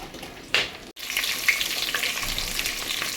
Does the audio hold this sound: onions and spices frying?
yes